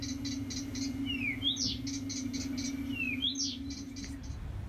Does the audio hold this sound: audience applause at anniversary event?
no